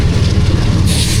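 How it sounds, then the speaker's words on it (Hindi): Hazara Express passenger train rolling slowly along the rails: a steady, close, dense rumble with faint wheel clatter, alone and without talk, brightening slightly toward the end. "स्लो स्पीड में ट्रेन पास हो रही है।"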